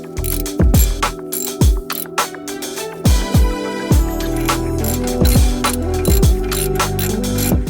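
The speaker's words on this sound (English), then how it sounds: "And then I can get back to removing the caliper bolts completely." A hand ratchet loosening the brake caliper bolts on an Audi TTS, giving rapid close metallic clicking in repeated bursts with short pauses and the odd clink of metal, loud and without talk.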